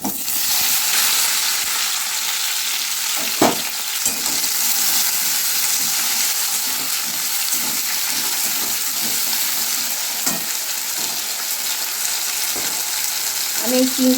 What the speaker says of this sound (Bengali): এবার আমি তেলের উপর দিয়ে দেবো শুকনো লঙ্কা পাঁচ ফোড়ন কেটে রাখা কুমড়ো টমেটো আমি তেলের উপরে দিয়ে দেবো